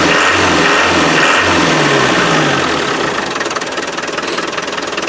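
A Land Rover 300Tdi diesel engine runs after a fuel supply problem, loud and close, with a rhythmic knocking idle that smooths into a steady run, no talk.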